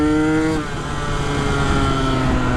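A KTM 125 SX two-stroke dirt bike revving hard while being ridden, a loud close engine whine that drops briefly after half a second and then climbs steadily again, with no voices.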